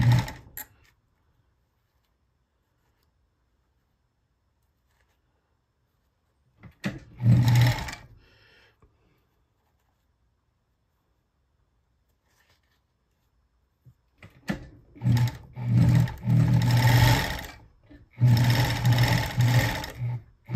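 A Bonis fur sewing machine stitches leather and beaver fur gauntlets in two close, loud runs, a short burst midway and a longer stretch near the end, separated by quiet pauses.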